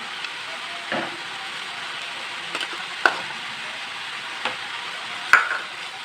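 Masala frying with ginger garlic paste in a pan, a steady soft sizzle and hiss with a few sharper stirring clicks and scrapes.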